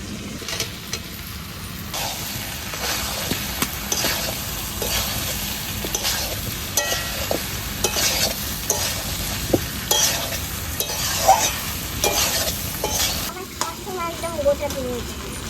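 Mutton with potato, onion and garlic is stir-fried kosha style in a pan, a continuous close sizzle with rhythmic scraping strokes of a spatula throughout.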